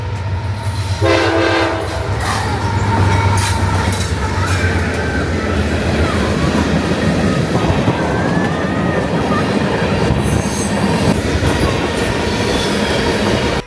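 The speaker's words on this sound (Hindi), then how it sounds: "बिना अनाउंसमेंट के ट्रेन कैसे आ सकती है यार?" A passenger train pulls into a railway station in the USA, horn blaring near the start, then steady rumbling, clattering wheels and high metallic squeals as the cars roll past close by, loud and continuous.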